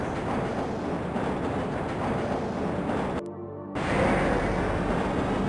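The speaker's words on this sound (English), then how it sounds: "This train is inbound from level three dormitories to Sector C test labs and control facilities." Black Mesa tram in the video game Half-Life, a constant loud mechanical rumble and hum of the moving rail car that cuts out briefly, then resumes slightly louder.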